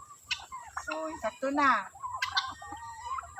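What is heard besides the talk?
pet chickens and turkeys after feeding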